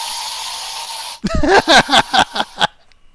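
A can of Raid aerosol fly spray hisses in a steady, close burst for about a second, then stops and a voice follows in short, clipped bursts.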